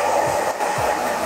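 A hair dryer blows on a man's hair after a classic barbering haircut, a loud, steady, close whooshing roar with slight wavering in pitch throughout, no talking.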